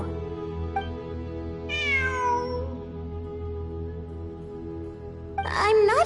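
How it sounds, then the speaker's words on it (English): A cat meows in a video game, one long wavering cry near the middle and a shorter, higher meow at the end, over a quiet steady hum of game ambience. "It really is a cat."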